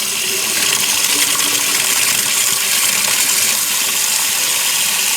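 Cold water tap newly reconnected after a hybrid water heater installation, gushing with a broad steady hiss as air purges from the lines, close and continuous with no talking.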